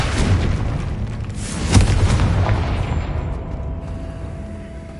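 In Hogwarts Legacy, a Confringo spell explodes with a heavy booming blast, a sharp crack, then a long rumbling decay that fades over several seconds, loud and close.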